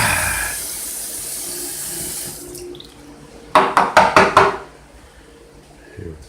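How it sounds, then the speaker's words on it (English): Tap water runs steadily into a plant-nutrient reservoir container for a couple of seconds, then a quick burst of sloshing and clattering as the container is rinsed and dumped out, followed by quiet. "Just dumped out and rinsed."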